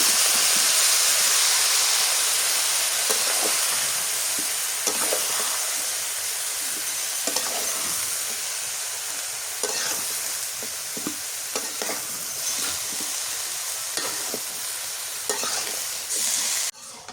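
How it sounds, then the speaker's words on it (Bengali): Jackfruit and cauliflower stir-frying in a pan for a home-cooked curry, giving a steady close sizzle and hiss with repeated scraping stirs of a spatula throughout, no talking. "এখন এই কাঁদাল আর ফুলকপি দিয়ে দিই।"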